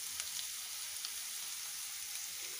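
Ginger garlic paste fries in a pan for spinach curry with a soft, even sizzle and faint crackling pops, close and quiet throughout.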